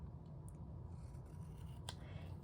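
Scissors cut out a piece of scrap white card with a faint, soft rasping crunch. A couple of brief snips come through over low background noise.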